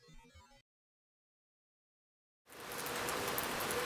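A short burst of something at the start gives way to silence, then a dense, steady hiss of heavy rain thickened with added noise fills the rest, loud and even.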